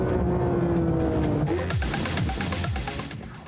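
A 500-horsepower sports car accelerating on a racetrack, its engine winding up through rising revs with quick gear shifts, loud and close, with no voices.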